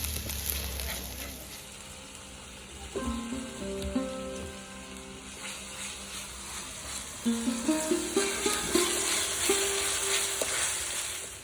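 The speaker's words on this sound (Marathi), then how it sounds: "वाटण आपल्याला व्यवस्थित तेल सुटेपर्यंत परतून घ्यायचं आहे" Ground masala paste sautéed in oil for a raw cashew nut curry, a steady sizzle with repeated scraping and stirring strokes against the pan that grow busier in the second half, no voices.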